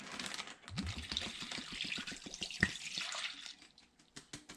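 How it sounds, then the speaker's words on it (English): Zatarain's liquid crab boil poured from a bottle over ten small speckled trout fillets, a steady close splashing pour with soft drips that tapers off near the end, no talk. "I'm going to pour the whole bottle in there and let them marinate."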